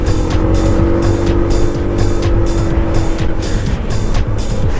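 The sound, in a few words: Honda ADV160 scooter engine throttling while riding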